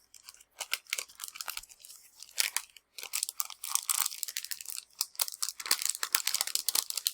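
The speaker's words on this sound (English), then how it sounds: "let me get it out of the protective envelope here" A collectible Pokémon card is slid out of its crinkly plastic protective envelope, giving close, busy crackling and rustling bursts with brief pauses, and no talking.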